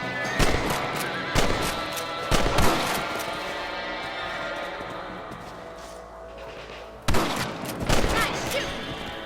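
Gunfire in the video game Red Dead Redemption, several loud volleys of shots with echoing tails, spread across a stretch of fainter background sound and reverberation.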